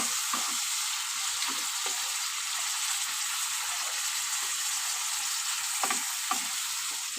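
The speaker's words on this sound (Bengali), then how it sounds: "দেখো হলুদ আর লবণ দিয়ে দিলাম, এবার বেশ ভালো করে ভেজে নেবো।" Hot oil sizzles in a pan after turmeric and salt are added, for a prawn and tomato sour dish. A loud, continuous crackling fry runs throughout, with occasional soft scrapes from stirring and no talking.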